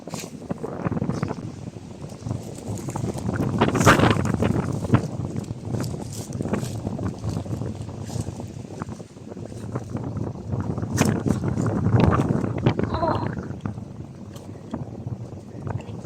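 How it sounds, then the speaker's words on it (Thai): Gusty wind buffets the microphone outdoors in rough, rumbling surges that swell and ease over time, with faint scattered rustles and knocks underneath. "นี่ลมพัด ลมพัดหมดแล้ว"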